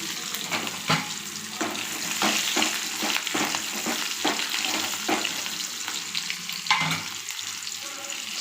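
Five cloves of garlic and about ten small sambar onions fry in oil with dal, producing a constant sizzle with repeated spatula scrapes and stirring clicks.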